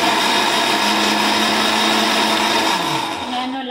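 Loud, steady whirring drone of a new blender running while making orange cake batter, a continuous motor whine that dips slightly in pitch near the end.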